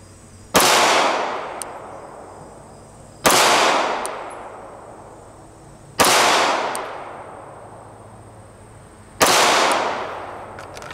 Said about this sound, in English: I'm simply going to fire 3 shots at each position, and I'm trying to keep all 3 shots touching